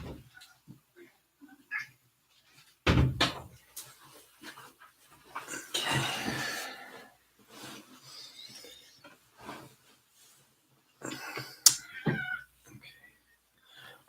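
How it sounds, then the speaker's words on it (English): A cat meows a few times at moderate distance in a quiet indoor room, with short bursts of background noise and faint voices between the calls. "Oh, I hear a cat."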